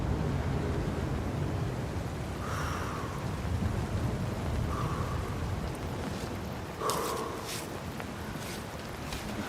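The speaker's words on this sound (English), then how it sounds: "Be careful here, it's raining." Steady heavy rain with a low rumble of thunder rolling underneath in the video game Cairn, a constant wash of noise with a few brief brighter tones and rustles drifting over it.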